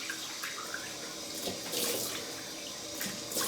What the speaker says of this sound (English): So I'm going to wash it off with cold water.